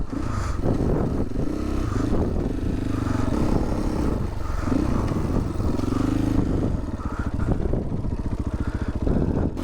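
KTM EXC500 motorcycle riding over morning sand dunes in Morocco, its engine revving and rising in pitch under load with clattering, continuous and close.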